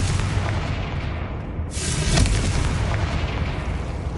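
A Confringo fire spell explodes in Hogwarts Legacy on PS5, a loud broadband blast with a sharp burst partway through and a dense rumbling roar that persists throughout, with no voices.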